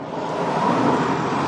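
Maserati GranTurismo S engine rising under a throttle press, a steady broadband roar that holds loud and even for a moment with no talk over it.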